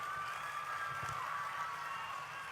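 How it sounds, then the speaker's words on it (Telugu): Audience applause and cheering at the inauguration of VR High School in Nellore, a steady dense wash of clapping with crowd noise throughout, fairly loud and continuous. "అందరు గట్టిగా చప్పట్లు పెట్టాలా"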